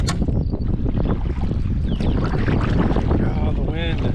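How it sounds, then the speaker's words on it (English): Gusty wind blows across a canoe near shore, steady rushing noise buffeting the microphone with water sloshing beneath, while people talk briefly nearby. "Oh, the wind."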